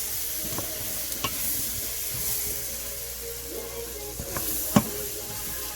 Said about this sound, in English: Put it in the pot. Yeah. Fry it up a little bit.